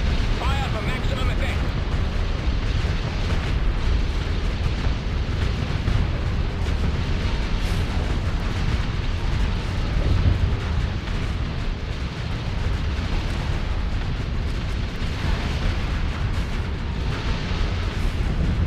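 Missile explosions from a Starsector space battle, a dense continuous barrage of booms and bursts filling the whole stretch, loud and close with no pauses.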